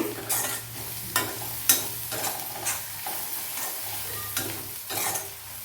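Garam masala and other spices fry in oil in a pan for shevla bhaji, giving a continuous sizzle broken by repeated scraping stirs and spoon knocks at an irregular rhythm, with no voices.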